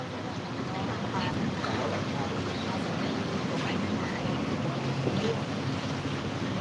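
Steady low rumble of a river ferry engine and water wash on a river in Bangkok, a constant drone moving along the water with no clear voices.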